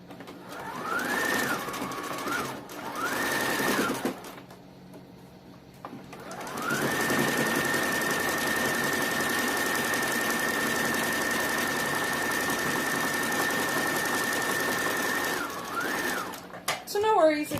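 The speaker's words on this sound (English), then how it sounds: "on my settings it's a zigzag stitch, and this is going to help lock it in place." Sewing machine running a zigzag stitch on baby booties, with short bursts near the start, then a long steady whirring run of about nine seconds, heard close and fairly loud.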